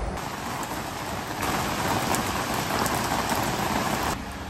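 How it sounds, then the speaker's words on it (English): Steady, heavy rain drumming on the shelter over a small camping trailer, a dense continuous patter that swells a little louder partway through before easing. "Oh, the rain's picking up again."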